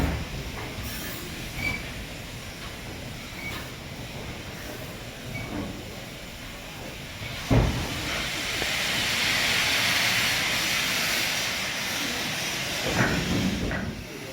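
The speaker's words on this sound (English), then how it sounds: "The excitement builds as the previously resting 73156 draws into the outer loop, whilst guest locomotive 92134 backs down the platform." Steam locomotives 73156 and 92134 moving at a heritage railway station during a winter steam gala, with steady hissing steam, rumbling rail noise and occasional sharp clanks and bursts, growing louder in the middle.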